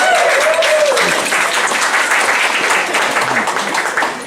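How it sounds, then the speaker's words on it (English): A dense, loud round of applause from the crowd at an emerging artist award evening, continuous throughout, with a voice briefly heard over the start. "Maybe can we give them a little pre-applause?"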